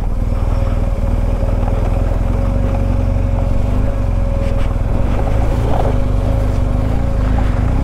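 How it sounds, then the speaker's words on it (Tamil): A vehicle crosses a small stream on Bolivia's Death Road, its engine droning steadily and loudly close to the microphone, with wind buffeting throughout and no speech. "சின்னதாக ஒரு வாட்டர் கிராசிங்."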